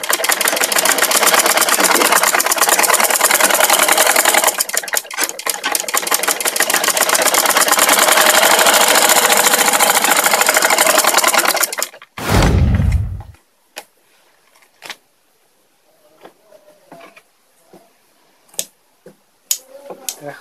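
Sewing machine stitching a churidar pajama, running loud and continuous for about twelve seconds with a steady mechanical whir, then stopping abruptly with a thump, followed by faint scattered clicks and handling sounds.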